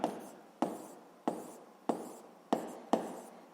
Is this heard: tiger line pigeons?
no